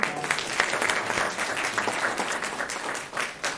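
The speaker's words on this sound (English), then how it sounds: "One more round of applause." A crowd at a city council meeting applauds honorees from the disability community, a loud, dense burst of clapping that holds steady with a few sharper claps standing out near the end.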